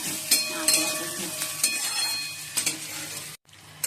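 Onion frying in a wok (kadai) after chillies were fried, with a soft constant sizzle and repeated spatula stirs and clinks against the pan, then a brief cut to silence near the end.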